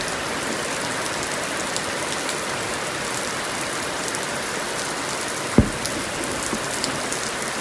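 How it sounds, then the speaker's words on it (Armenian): Rain falls steadily outdoors in a thick, unbroken hiss, with one sharp knock standing out briefly partway through; no one speaks. "Փոխարենը անձրև կա, ամպի գոռոց կա ու սառը քամի։"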